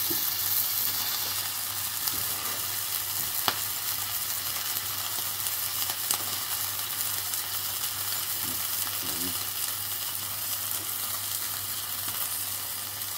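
Steak searing in a hot pan, a constant loud crackling sizzle with steady bright hiss, unbroken throughout.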